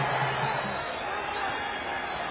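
A football stadium crowd at a Castle Lager League match between FC Platinum and Dynamos FC applauds a player, a broad steady wash of clapping and cheering under a commentator's voice.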